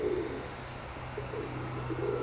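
Pet pigeons coo softly in a loft, low repeated coos rising through steady background hum, no talk.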